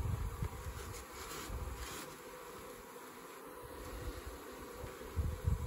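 Honey bees in a mini mating nuc hum in a close, continuous, wavering buzz that swells and fades as insects move near the hive box. No voices are heard.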